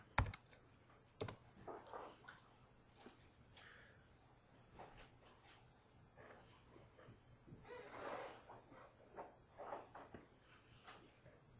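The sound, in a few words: typing on a computer keyboard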